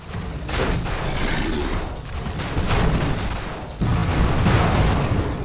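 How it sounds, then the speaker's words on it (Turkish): Battle simulator video game noise with a tank exploding heavily and booming gunfire, dense and loud throughout, with a fresh burst near the end. "Tankın teki patladı."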